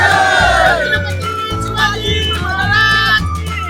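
A crowd cheering at a Holi festival arrival procession in Kelwane village, loud close voices shouting together over music and drumming.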